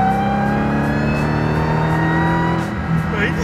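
A car engine held in fourth gear, a loud steady drone with strong even harmonics and little change in pitch across a few seconds, close and continuous.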